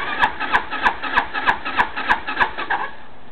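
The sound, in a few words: XY260T-4 260cc scooter engine starting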